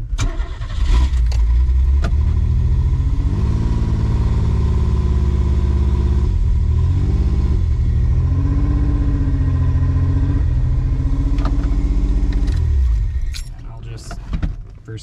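A project car with a turbocharged 3800 engine runs loudly and close as it backs up, its steady low drone shifting in pitch, with a few clicks near the start and end and brief talk.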